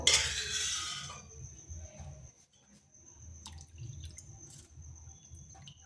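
Water pours briefly into a bowl of batter for pitha at the start, followed by faint drips and light clinks of a utensil against the bowl in a quiet kitchen.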